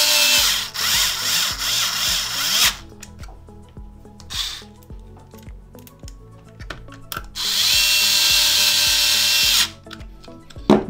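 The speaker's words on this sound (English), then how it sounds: "Now you're gonna wanna switch bits and put in these two USB screws" An electric screwdriver whirs in long bursts as it drives the USB port screws into an Xbox One X console during a power supply repair, with stop-start pauses and small ticking handling noises between runs.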